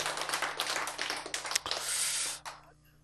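Spontaneous audience clapping during a lecture on genes and choice, a dense burst of many hands that swells, holds, then cuts off abruptly, leaving a quiet room.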